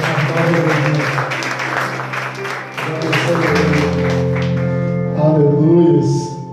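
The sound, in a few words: congregation applause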